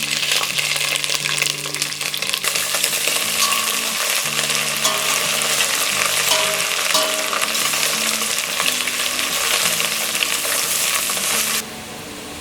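Green chili, ginger and garlic fry loudly in a pan, giving a dense, continuous close-up sizzle with a few faint clinks, then easing slightly near the end.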